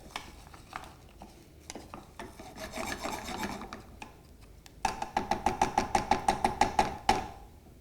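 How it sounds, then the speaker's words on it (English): Rice toasts in a pot for pilaf while a utensil stirs and scrapes it, giving a dry rasping rustle that turns into a quick, regular series of scraping strokes near the end, close and fairly quiet, with no talk. "So we're going to continue to toast our rice for a couple of minutes."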